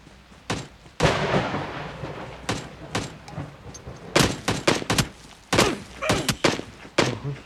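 Gunfire in a battle royale video game comes as sharp bursts of shots and thuds, sometimes single and sometimes in quick clusters, spaced irregularly with quieter gaps.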